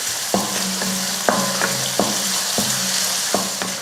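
Small onions and chopped garlic sauté in hot oil with a constant bright sizzle, while a spatula knocks and scrapes the pan in regular strokes about every second, close and without talk.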